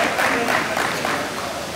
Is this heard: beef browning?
no